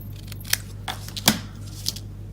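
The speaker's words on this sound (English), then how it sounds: "I'm actually going to cut this one in half." Scissors snipping through a piece of card stock while making a nautical-themed greeting card, a few short, crisp cuts spread over a couple of seconds, close and fairly quiet, with no talking.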